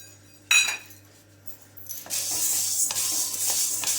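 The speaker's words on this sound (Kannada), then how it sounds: "ಈ ಹೆಸರು ಕಾಳನ್ನ ಈಗ ಒಲೆ ಹಚ್ಚಿದ್ದೀನಿ, ಬಾಂಡೆ ಬಿಸಿಯಾಗಿದೆ. ಇದನ್ನು ಡ್ರೈ ರೋಸ್ಟ್ ಮಾಡ್ಕೊತಾ ಇದ್ದೀನಿ." Green gram dry roasting in a hot pan: a few sharp clinks, then a steady, bright rattling hiss of grains being stirred and shuffled against the metal, close and fairly loud.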